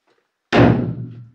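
A single heavy bang in an old mine imitates a blasting charge, a sharp thud that rings and decays over about a second after a brief quiet.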